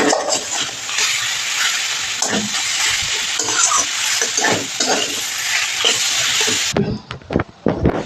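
Ghetkol and jackfruit seeds fry noisily in a pan, a loud close sizzle broken by repeated scraping stirs, and the hiss cuts off near the end, leaving a few scattered clatters.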